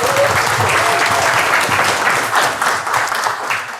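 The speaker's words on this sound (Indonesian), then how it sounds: "tepuk tangan dulu buat kita semua sekalian ya." An audience bursts into sustained, loud applause, many hands clapping steadily throughout with faint crowd noise underneath, in a talk.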